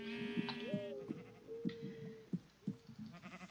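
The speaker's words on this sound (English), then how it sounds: "Let's kill these sheep." Sheep in the crafting video game Can't Stop Crafting bleat in a few wavering calls, close and fairly loud, with soft thumps and game noise around them.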